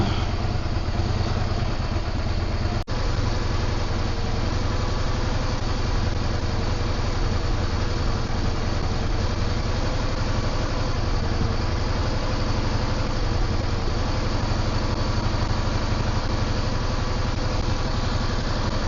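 A Yamaha V Star 650 motorcycle idles steadily nearby, its engine burning off oil smoke as it clears out, giving a continuous, even, throbbing low rumble with no pauses or talking.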